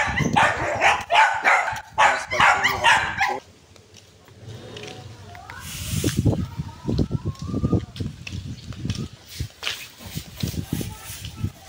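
A dog barks in short bursts close by outdoors in Cavite, with people chatting in between and overlapping.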